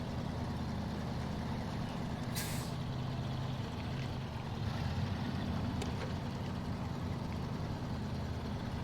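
A heavy International Fleetstar truck in a driving game idles with a steady low engine rumble, broken by a short sharp hiss of its air brake releasing, then more rumble and a fainter hiss later, with no voices over it.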